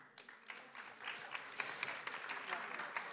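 A conference audience at the 40th FNADEPA national congress applauds, bursts of clapping rising and fading over about three seconds, fairly faint and somewhat distant in a large hall.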